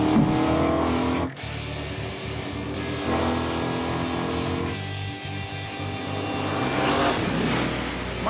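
A Mint 400 race truck engine runs hard, roaring loud and close with shifting revs and brief dips between sustained pulls.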